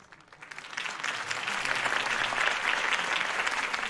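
A crowd in the video game Batman: The Telltale Series bursts into sustained applause, swelling quickly and holding steady with dense clapping and faint cheers.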